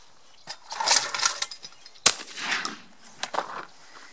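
Shotgun blasts fired at a clay target with Winchester AA TrAAcker loads from a Fabarm XLR5 Velocity LR, a sharp loud crack near the midpoint among other bangs and outdoor clatter.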